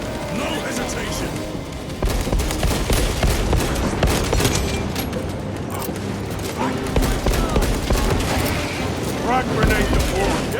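Heavy sustained gunfire in the Warhammer 40,000 video game Space Marine 2, dense overlapping bursts and shots running continuously with loud battle din, while voices shout over the fighting.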